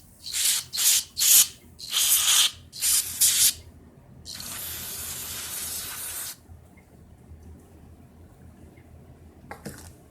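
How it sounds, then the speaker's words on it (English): NAPA parts cleaner hisses from an aerosol can onto a Stihl FS trimmer's ZAMA C1M-S267A carburetor in several short bursts, then one longer spray, close and loud. "I'm going to spray a little NAPA parts cleaner here."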